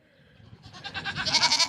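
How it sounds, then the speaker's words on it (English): Goats in birthing stalls on a farm bleating, a wavering, rising cry that grows louder and more nasal over the second half, close by with no talking. "2 goats in the birthing stalls"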